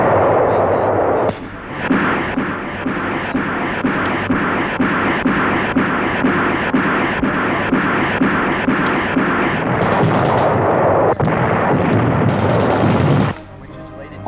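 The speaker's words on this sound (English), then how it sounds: "Terrific rocket barrages level shore defenses." Wartime rocket barrages strike shore defenses in a continuous, dense roar of rapid blasts and rumbling explosions, loud throughout with a brief dip early on and a drop at the end.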